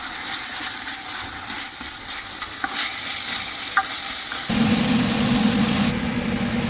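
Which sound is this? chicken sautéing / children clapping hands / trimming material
chicken sautéing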